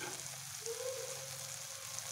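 Soft, continuous sizzle of potatoes and bottle gourd frying with spices in a pan, heard close and steady with a faint hiss throughout.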